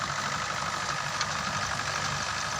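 A 2005 Mahindra 575 tractor engine idles with a steady, low rumbling chug and faint knocking, close and continuous with no talk.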